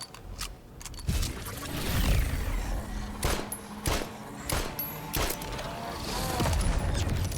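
A player's gun fires in the video game Nightingale, sharp repeated shots in irregular bursts with booming impacts, mid-loud, while someone talks now and then.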